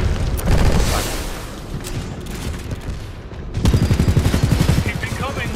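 Gunfire in the Titanfall 2 shooter, loud rapid automatic bursts in dense volleys with booming impacts, an opening burst followed by a heavier sustained barrage, with speech over the shooting.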